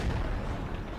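A tank's main gun firing in World of Tanks, the shot's boom swallowed by a dense, steady low rumble that stays loud across the whole second with no clear separate blast.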